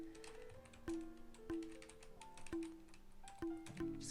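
Computer keyboard keys click in scattered, irregular presses during a game of Tetris, quiet and close with short pauses between taps, mixed with faint tonal game beeps.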